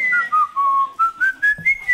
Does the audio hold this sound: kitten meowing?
no